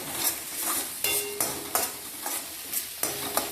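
Spatula stirring onions and spinach sautéing in a pan, with rhythmic scraping strokes roughly every third of a second over a continuous soft sizzle, close and clear.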